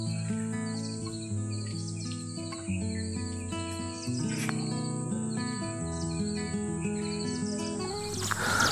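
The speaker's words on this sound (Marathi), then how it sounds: "आमच्या घराच्या बाजूला किती पक्षी आहेत बघा" Birds call around a house in the Konkan countryside, with steady insect chirping beneath; bright tonal chirps and tweets repeat throughout at moderate level, layered over dense continuous buzzing.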